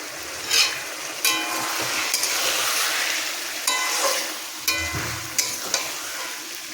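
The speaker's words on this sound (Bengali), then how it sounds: "ঠিক আছে, এখন কষানো চলছে।" Fish curry masala with chopped tomato and chilli, ginger-garlic paste and fried onion sizzling and frying in a pan, with repeated scraping stirs of a spoon close by and no talk.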